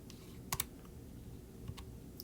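Quick plastic taps on Casio calculator keys, a short cluster of close, quiet clicks followed by a few scattered presses in a calm, quiet room.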